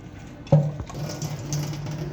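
Water sloshes and splashes in a vessel as cut potatoes are rinsed, with a sharp clatter at the start and a steady low hum underneath.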